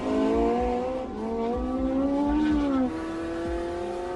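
A Porsche 918 Spyder hybrid's V8 racing engine in sport mode revs hard and climbs in pitch, then eases off and steadies. The sound is loud, continuous and close, with no voices.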